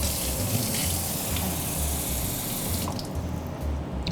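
A kitchen tap runs steadily into a pan being filled with water for poaching salmon, a constant close gush that stays level throughout with no voices.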